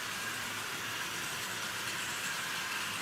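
A Tri-ang Hornby B12 model locomotive runs on nickel-plated Super 4 track, giving a steady, even whirring hum at constant speed.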